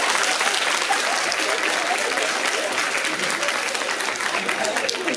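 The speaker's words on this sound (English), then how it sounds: "applaudissez-le pour ça quand même" Sustained audience applause at a fan convention in Paris, dense and even clapping that continues steadily from start to finish.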